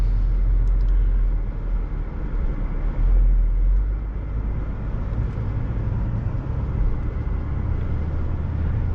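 A Mercedes-AMG E55 Kompressor, a supercharged sedan with 469 horsepower, cruises along with a steady, loud low rumble of engine and road noise that stays constant throughout, without any talking.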